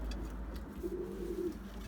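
Pigeons in a loft coo softly, a low throaty warble rising briefly near the middle over a steady low hum, fairly faint and close, with no talk.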